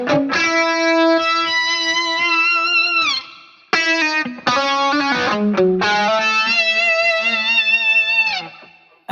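A distorted electric guitar runs through a Fractal pitch-shifting effect, with long held notes that sweep and bend in whammy-like dives and rises, broken by short gaps between phrases.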